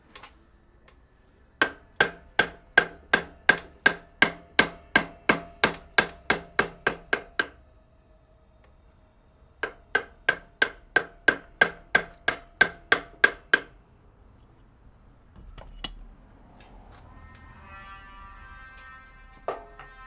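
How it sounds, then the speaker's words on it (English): A carving chisel is struck against pine in Maori wood carving, giving two fast runs of sharp, evenly paced taps, roughly twenty in each. Fainter scraping and knocking follow, heard close and with no talk. "Chipping away at some pine today, my friend."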